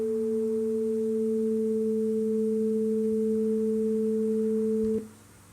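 Two steady pure sine tones sound together, close to an octave apart but slightly detuned, held smooth and even for about five seconds before cutting off abruptly.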